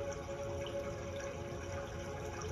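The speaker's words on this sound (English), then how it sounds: "Listen to the waterfall splashing upon your feet." Steady rushing water, like a waterfall, plays as a calm, even wash of sound in a meditation setting. It stays at a constant level throughout with no breaks.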